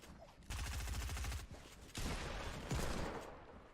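Rapid bursts of gunfire in the Fortnite video game, including Desert Eagle shots, coming in two or three dense volleys over about four seconds, fairly quiet, with no speech.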